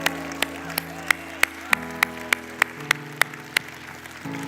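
A church congregation claps in a steady, evenly spaced rhythm, each sharp clap standing out over sustained musical tones that shift pitch underneath.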